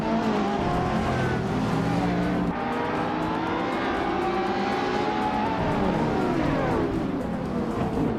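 Several 2011 BAC Mono race cars launch together at the start of a video game race on a 4-kilometer track, engines droning loudly and continuously with shifting, overlapping revving tones and steady road roar throughout.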